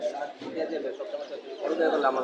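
Pigeons coo softly nearby at a pigeon market in Jinjira, Bangladesh, low repeated throaty calls mixed with people talking in the background.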